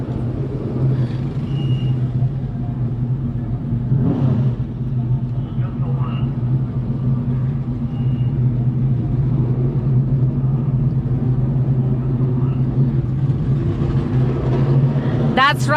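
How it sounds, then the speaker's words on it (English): Race cars rumble in off the track at Laguna Seca during a classic car race day, a steady low engine drone running throughout with brief louder passes, while people talk over it. "We've got some awesome cars coming in behind us from the last race."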